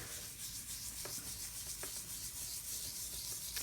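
A dry brush rubs over gilding flakes on paper in a faint, close, continuous scratchy brushing with a few light ticks and no voices.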